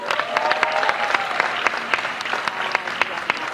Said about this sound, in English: Guys, clap for Ramsey Nouah and the team.